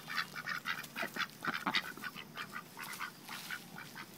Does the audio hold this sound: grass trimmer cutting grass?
no